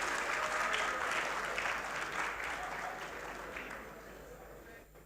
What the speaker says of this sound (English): Please, a round of applause for NDLA